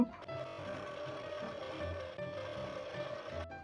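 A sewing machine stitches a skirt in a steady continuous hum with a tonal whine, running alone without talk and stopping near the end.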